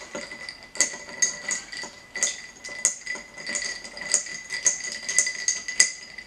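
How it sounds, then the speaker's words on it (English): Spoon clinking against a glass while stirring an old fashioned of whiskey, sugar and bitters, a steady run of light, bright taps and rattles close by with no talk. "Give it a quick little mix."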